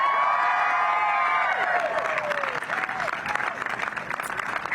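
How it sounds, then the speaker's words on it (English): A rally crowd applauds Gun Sense champions, clapping broadly with scattered cheers and whoops, loud and sustained; a voice carries briefly over the start. "Let's give them a round of applause."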